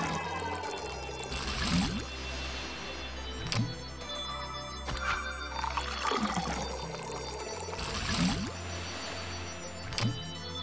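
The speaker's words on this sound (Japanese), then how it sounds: "海みたいな音してる" Sea-like wash of water in Pikmin 3 Deluxe, a steady low rolling roar with swells of hiss, mixed with chiming game music and periodic bright bursts, moderately quiet and without talk.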